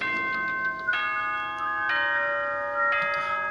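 School announcement chime from the Danganronpa Trigger Happy Havoc video game, a series of bright tonal bell-like notes ringing out in stepped, sustained tones, clear and alone without talk.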